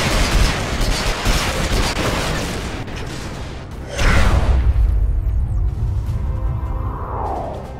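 Reaver gunship in the game PlanetSide 2 loosed air-to-ground rocket fire: dense, loud bursts of launching and blasts, a heavy boom near the middle, then a rumbling roar with a falling whine.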